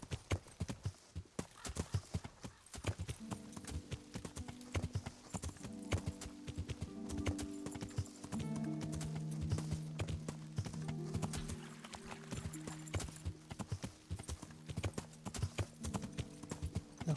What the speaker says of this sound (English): The horses can be pretty tricky to steer in this game.